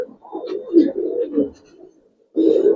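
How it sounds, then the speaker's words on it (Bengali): A pair of Giribaj pigeons, a male and a female, coo up close in a loft, in throaty rolling bursts. A brief pause follows before the cooing swells again, loud and clear. "কবুতর দুইটা দেখেন।"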